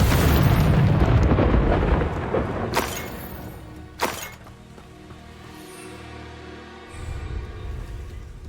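A Confringo fire spell explodes in the game Hogwarts Legacy with a loud burst and crackling rumble, followed by two sharp impact cracks and a fading roar under a low hum.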